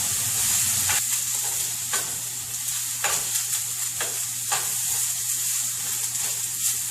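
Onion fries in a pan for coconut chicken curry, giving a steady bright sizzle and hiss with repeated soft stirring scrapes, close and continuous.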